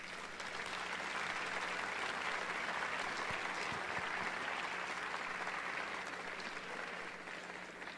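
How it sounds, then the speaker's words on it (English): A conference audience at a plenary session applauds its panelists with steady, continuous clapping from a large crowd, heard from some distance and held at an even level throughout. "Now I would like everybody to help me thank our panelists for their valuable comments today with a big round of applause."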